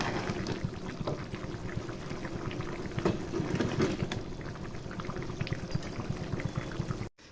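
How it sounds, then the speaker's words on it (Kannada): Paneer gravy bubbles and simmers in a pot, a steady close bubbling and liquid churning that runs throughout before cutting off abruptly at the end. "ಸೊ ನೋಡ್ಬೋದು ಯಾವ ರೀತಿ ಕುದೀತಿದೆ ಅಂತ"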